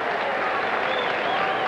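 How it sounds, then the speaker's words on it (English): A 1987 baseball stadium crowd murmurs with a steady, dense buzz of excitement as Eric Davis is announced, a brief wash of voices and faint clapping. "every time he's announced, there's a buzz in the crowd"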